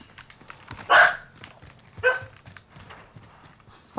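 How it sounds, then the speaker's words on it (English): Dog barking outdoors near a tent, two sharp loud barks about a second apart over quiet background, followed by a fainter bark at the end. "Fucking idiot, that dog sometimes."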